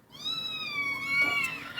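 Kittens shut in and unable to come out give a single drawn-out meow, fairly close and clear, lasting nearly two seconds over a faint background.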